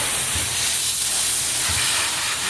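Pressure washer at a car wash blasting water into the hub of a 1988 Mongoose Expert BMX bike, a steady close, loud hiss of spray that runs throughout with no pauses.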